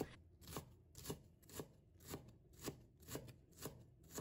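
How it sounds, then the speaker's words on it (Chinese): A knife minces peeled ginger on a cutting board in quick, even chops, about two per second, each a crisp, close knock, quiet and steady with no voices. "将它切片。 然后切丝， 再切成姜末。"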